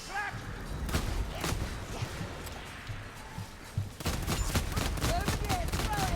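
Brace of Pistols firing in the video game Vermintide, during a Bounty Hunter run: repeated sharp loud gunshots in quick bursts, with game noise and a horde rumbling underneath.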